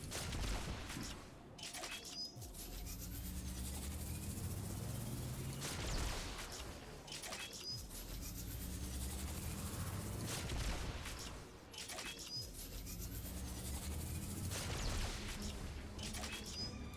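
Zapotron energy sniper rifle firing charged power shots in Fortnite Save the World, a few sharp loud blasts spaced several seconds apart over continuous game ambience.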